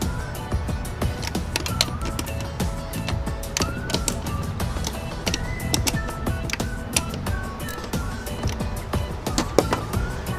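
Bolts on a Jeep Wrangler throttle body being tightened in a crisscross pattern, giving close, steady ratcheting clicks and small metallic mechanism sounds throughout, with no talking.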